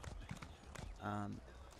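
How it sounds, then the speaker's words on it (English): Hooves of a horse named Mr. Happy clip-clop in The Elder Scrolls Online, a steady run of quick hoofbeats under continuous talking. "Back on Mr. Happy the horse over here, which is what I named my horse."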